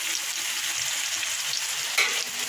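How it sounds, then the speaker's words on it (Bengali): Spice paste, mixed with a little water, sizzles steadily in oil with fried pointed gourd, a close, continuous frying hiss with a brief louder sputter near the end. "এবার ভালো করে কষাবো"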